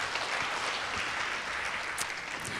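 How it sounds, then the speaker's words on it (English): Concert audience applauding an orchestra, a steady, fairly quiet wash of many hands clapping with no talk over it. "Can we please give them a round of applause for that?"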